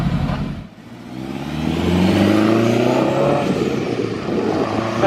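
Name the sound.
turbocharged Honda Civic EK hatch K20 engine running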